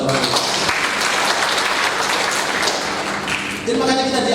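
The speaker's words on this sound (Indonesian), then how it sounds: "Berikan tepuk tangan buat Tuhan" A congregation at a church worship service claims in praise of God, giving dense, sustained applause close by with a brief dip near the end before it swells again, while a voice carries over it.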